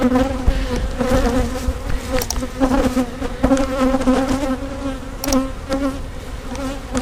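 A loud, dense buzz of many honeybees fills the air as a hive box holding the queen is moved during a hive split, the droning hum sustained and close throughout.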